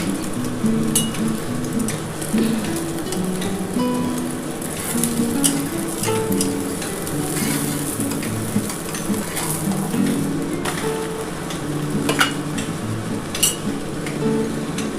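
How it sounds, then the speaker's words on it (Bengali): Five egg omelettes fry in a pan with oil, giving a steady, dense sizzle throughout, with faint scraping and clinks from stirring and occasional bright crackles. "কত সুন্দর করে কিন্তু ভাজাটা হচ্ছে"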